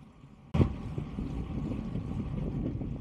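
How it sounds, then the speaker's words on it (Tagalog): Headwind buffeting a microphone during a bicycle ride on a desert cycle track, a sudden roar that starts abruptly and continues as a loud, steady rumbling rush. "Ito na yung salubong sa hangin."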